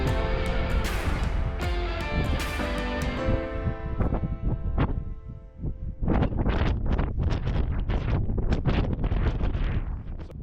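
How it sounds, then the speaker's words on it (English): Heavy wind buffeting the microphone in the Painted Desert, loud rumbling gusts with crackling bursts throughout, continuous with no clear voices. "windy up here, guys."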